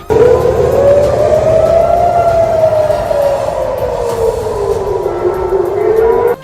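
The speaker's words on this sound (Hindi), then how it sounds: "वहां हमलों की चेतावनी के सायरन बजने लगे" A loud air raid warning siren in Israel wails continuously, its pitch slowly rising then falling and rising again, with no voices.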